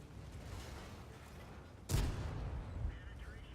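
A tank's main cannon fires once in World of Tanks, a single sharp, heavy boom at mid-clip that trails into a rumbling low tail over a constant engine-like drone.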